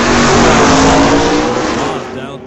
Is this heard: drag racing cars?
yes